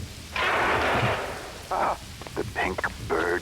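Rain and a rumble of thunder in Max Payne 2: a dense hiss of rainfall opens loudly, followed by shorter bursts of noise, fairly near and steady.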